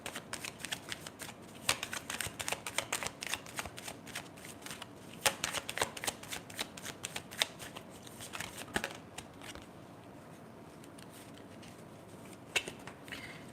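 A deck of tarot cards being shuffled: a long run of quick, crisp riffling and flicking at close range that thins out partway through, then a few final snaps, with no talking.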